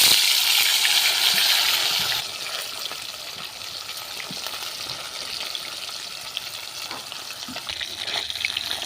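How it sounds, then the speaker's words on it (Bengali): Tilapia fish fry in hot oil, giving a loud crackling sizzle that flares at first, then settles into a steady hiss dotted with sharp spits and pops. "আমি এখন মাছ ভেজে নিচ্ছি"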